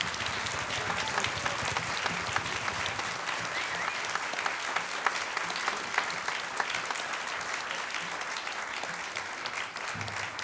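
Sustained audience applause fills a hall at a brass and organ holiday concert, a dense, steady wash of many hands clapping for over ten seconds with no voices over it.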